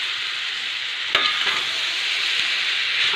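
Maggi noodles being stirred into a pan with cooked vegetables and coriander leaves, a constant bright sizzle with a single sharp clink and a few soft scrapes.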